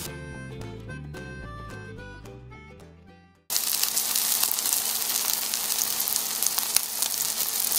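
Steady hissing sizzle of eggplant frying in hot oil, loud and close, following a short stretch of piano music.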